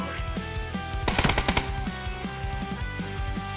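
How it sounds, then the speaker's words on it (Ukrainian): Rapid gunfire in PUBG crackles in a dense burst midway, with scattered single shots before and after over a steady electronic musical background. "вони стріляють і стрілять"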